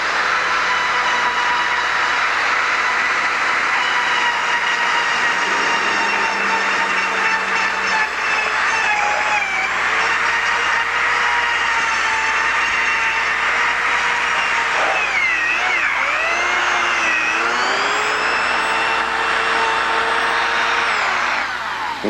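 A Dremel rotary tool with its tip removed routes into a wooden block from the end, a loud, continuous high whine whose pitch sags and recovers as the bit bites into the material, sustained without pause.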